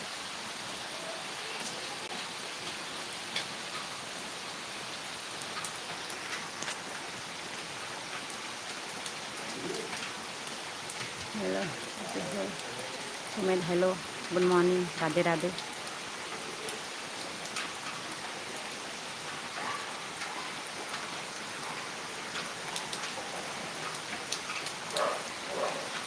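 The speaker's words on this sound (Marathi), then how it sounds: "भरपूर मुसळधार पाऊस पडत आहे" Heavy monsoon downpour in Maharashtra pours in a steady dense hiss for the whole stretch, with a few bird coos and a brief greeting spoken midway.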